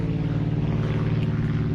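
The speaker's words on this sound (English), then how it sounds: "Airplane pulling a banner that says Twin Peaks, home of the 29-degree beer." A propeller airplane pulling a banner passes overhead, giving a steady loud droning engine hum throughout, with no voices.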